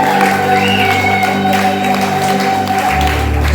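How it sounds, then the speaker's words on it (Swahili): At a church youth gathering, a crowd applauds Jesus with loud, sustained clapping and cheering, steady from start to finish. "Hebu mpigie Yesu makofi mengi."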